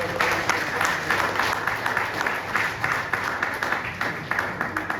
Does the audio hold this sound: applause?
yes